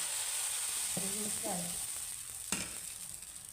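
Mallige dosa batter hits a hot oiled griddle with a steady broadband sizzle and frying hiss, a few soft clinks and a sharp tap near the end, no talking.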